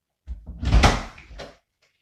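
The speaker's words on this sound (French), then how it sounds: "tu veux que je ferme la porte pour l'instant?" A door is closed indoors with a single thudding knock followed by a short rattle as it settles, near and fairly loud, with no talking.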